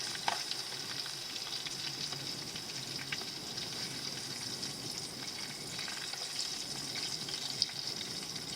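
Bacon sizzles and fries in a pan at an Arizona motorcycle campsite, a steady, close, continuous crackle with no voices.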